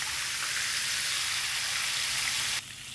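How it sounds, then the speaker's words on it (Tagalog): Fish livers and other innards sizzle steadily in hot oil, a continuous bright crackling hiss with no talk, dropping slightly in level near the end. "Isalin na din natin pagprito itong mga atay at mga ibang lamang loob ng"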